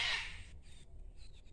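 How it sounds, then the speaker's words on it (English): Cockatoos screech in one harsh, loud burst at the start, then fade into a faint outdoor background. "The cockatoos. I love the cockatoos."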